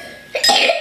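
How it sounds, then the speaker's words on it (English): A single short, muffled cough close by, a quick burst of breathy noise after a moment of near silence. "Good job covering your cough, but use your elbow."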